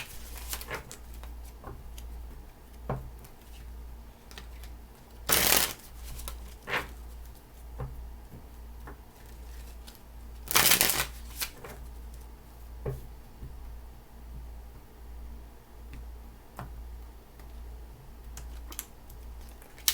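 Tarot cards are shuffled by hand: soft, irregular tapping and patter run throughout, broken by two louder rustling bursts, close by over a faint background hum.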